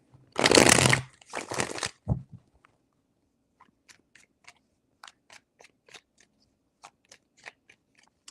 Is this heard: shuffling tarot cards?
yes